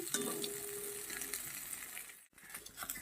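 Potatoes with turmeric and salt fry in a little oil in a pan, a soft, steady sizzle broken by a small metallic clink and a brief moment of near silence before the sizzling resumes.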